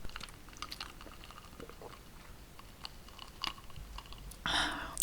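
Someone chews a peanut-flavored Krispy Kreme Christmas doughnut close to the mic, making soft, moist bites and faint crunches, then a louder crinkle near the end, with no talking.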